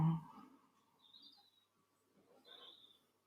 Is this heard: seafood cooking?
no